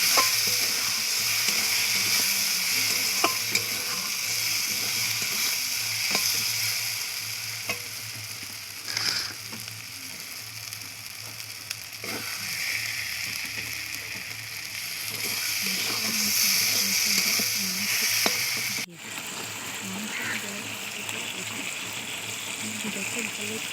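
Mutton frying with spices in a pan, a steady broadband sizzle running throughout with occasional stirring clinks and scrapes, close and continuous.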